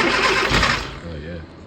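An Austin Mini Cooper fitted with an MSD ignition cranks and starts up close. A loud, rough burst of engine noise quickly drops toward idle while people talk over it.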